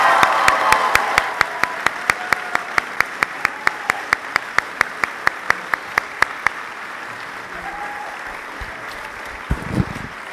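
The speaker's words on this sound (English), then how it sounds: "can we give them a round of applause?" Audience at a school awards ceremony applauds fine arts teachers, with steady rhythmic clapping from a crowd in a hall that thins out and fades after several seconds.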